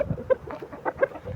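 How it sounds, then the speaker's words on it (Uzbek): A champion rooster from Samarkand clucks in a run of short, throaty calls, several bursts close up over about a second, with no voices. "Mana bu xo'roz Samarqanddan Azimboy degan ukamizdan kelgan"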